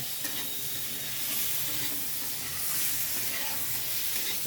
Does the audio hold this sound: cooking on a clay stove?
yes